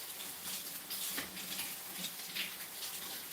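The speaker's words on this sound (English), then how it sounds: "I can hear the corned beef hash is sizzling." Corned beef hash sizzles in a frying pan with a soft, steady crackle and hiss. The sound stays faint and continuous throughout, and no one speaks over it.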